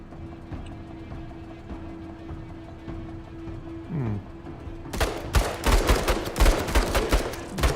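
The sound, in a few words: gunfire shooting an enemy in video game Menace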